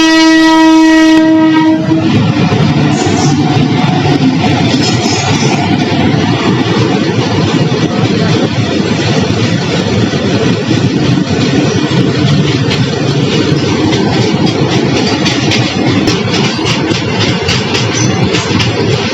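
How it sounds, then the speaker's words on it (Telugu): A train passes a railway gate, opening with a loud sustained horn blast, followed by a steady, close rumble and clatter of wagons rolling by. "ఇక్కడ ట్రైన్ వస్తుంది అక్కడి నుంచి."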